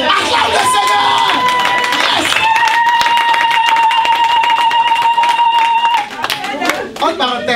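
A church congregation cheers and shouts in acclamation of the Lord, a loud dense crowd roar with sustained high vocal tones and voices over it throughout.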